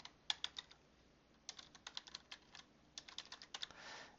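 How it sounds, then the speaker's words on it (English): Quiet, close typing of a search into a computer keyboard: three short runs of rapid key clicks separated by brief pauses, with nothing else heard. "So now we can just type that in here"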